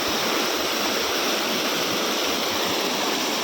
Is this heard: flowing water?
yes